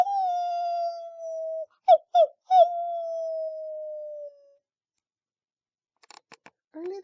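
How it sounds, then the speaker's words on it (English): A long, wavering howl rises and slowly falls, broken by a few short yelps, then fades out before faint clicks and a brief final cry. "Coyote sat on his haunches and howled."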